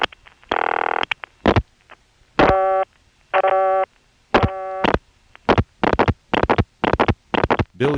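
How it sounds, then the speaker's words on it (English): The last four digits are dialed on a 1976 step-by-step (XY) telephone exchange in Greencastle, Pennsylvania. Loud, clipped bursts of buzzing tone alternate with sharp relay clicks in irregular clusters, with no voices. "Now I'm dialing the last 4 digits."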